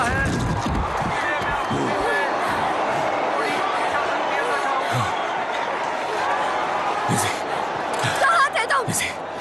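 A dense crowd gathers before a race start, a constant murmur of chatter and babble with scattered thumps and knocks, while a nearby voice talks over the noise.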